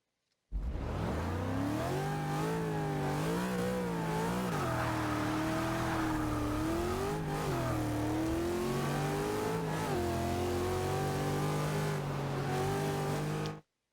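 Race car engines in the Forza racing video game roar close and loud, revving up through gear after gear with pitch climbing and dropping in repeated shifts, alone and continuous.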